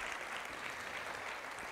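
A church congregation clapping together during a sermon, a dense, steady wash of many hands applauding throughout, heard from within the room at moderate volume.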